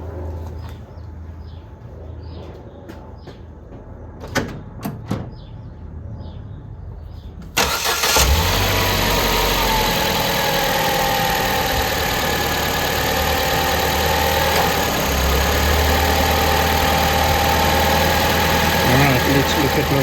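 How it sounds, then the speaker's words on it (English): Quiet room tone with a few faint clicks, then a car engine cranks and catches abruptly, settling into a steady, loud idle under electrical load, with headlights and AC on, that continues to the end. "start the engine and apply some load"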